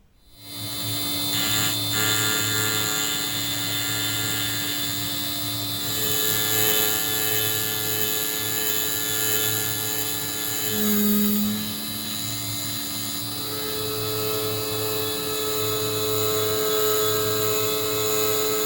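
A workshop lathe motor runs steadily with a high, drill-like whine and a constant hum, loud and near, holding even for the whole stretch with only a brief shift midway and no talk.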